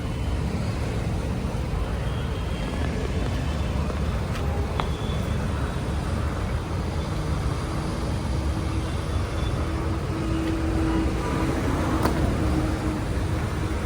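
A new Kia Syros HTK car being driven away after delivery, heard from inside as a steady low engine and road rumble with faint cabin noise, constant and moderate throughout.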